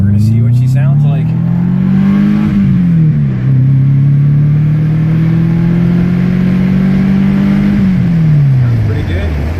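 Subaru Legacy engine on a dyno pulling hard and loud, a sustained rising drone that holds high, dips briefly, then climbs again before easing off near the end.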